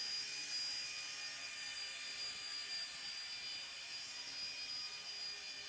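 Esky 150 EC RC helicopter hovering, a faint, steady high-pitched whine heard from a distance and continuing unchanged throughout.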